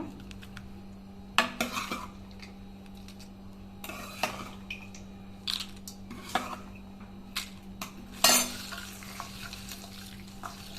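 A spoon stirs tempering masala into puliyogare rice in a pot, scraping and clinking in irregular bursts with a soft sizzle and a steady low hum underneath, no voices.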